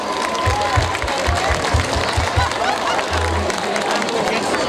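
A crowd at a live music show in a Spanish-speaking venue claps and cheers loudly and steadily. Chatter and voices in the room blend into the applause, and low thumps sound underneath.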